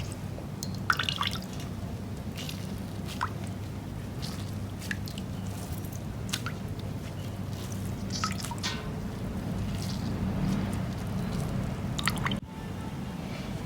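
Wet squishing and irregular dripping as fresh paneer is squeezed by hand to drain it for rasgulla, with water trickling and splattering in short bursts over a low background hum.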